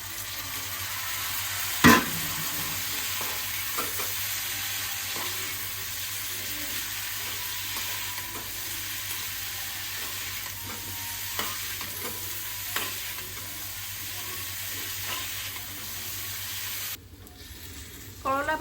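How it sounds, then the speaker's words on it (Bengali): Bitter gourd and potato fry in a pan with a steady, even sizzle, stirred now and then with soft scrapes and one sharp clatter, continuing alone for most of the stretch before a brief change near the end. "এই তো ভাজা ভাজা হয়ে যাচ্ছে, আস্তে আস্তে লাল লাল হলে পর নামিয়ে ফেলবো"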